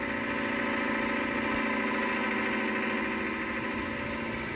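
A 55-horsepower Leyland 344 tractor engine runs steadily while pulling a four-furrow plough, giving a continuous even drone with no change in speed, heard alone at moderate loudness.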